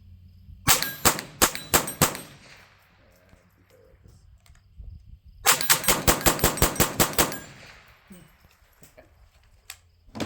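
Rapid bursts of .22LR rounds from an MP5 ringing off steel targets, two clusters of sharp metallic clangs in quick succession, loud and close, separated by a quieter pause.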